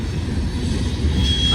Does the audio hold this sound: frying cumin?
no